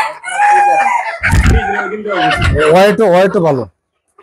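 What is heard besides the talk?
native desi chickens clucking on farm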